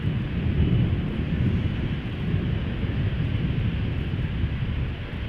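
Emirates Boeing 777 jet moving at Schiphol near the Polderbaan, a constant low rumbling engine roar, fairly distant and steady, with no voices.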